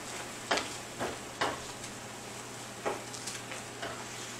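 Creamed spinach cooks in a pan over raised heat while its liquid boils off, a soft continuous sizzle broken by several distinct scraping stir strokes at irregular intervals, close and unaccompanied by speech.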